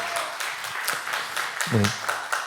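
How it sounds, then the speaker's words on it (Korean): Applause from a church youth-service congregation, scattered claps and light crowd noise with a brief voice rising in the middle, fairly close and moderate in level. "박수"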